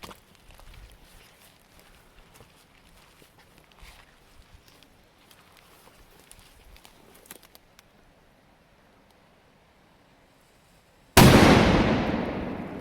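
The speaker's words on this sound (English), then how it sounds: "a nice big red firecracker" A single loud, sharp blast from a big red firecracker set against a lock goes off after a stretch of quiet rustling, its roar decaying over the final second or two.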